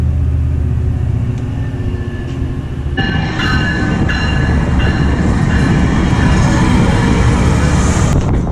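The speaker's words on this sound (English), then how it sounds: "Train coming right into the kitchen here." A train rumbles close by with a loud, steady roar and rhythmic clatter of wheels on rails, growing louder and denser as it passes.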